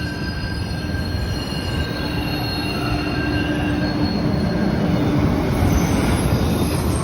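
A train rolls steadily along with loud, continuous squealing from its wheels. Constant high metallic tones ride over the low rumble of the rails for the whole stretch, and no one speaks.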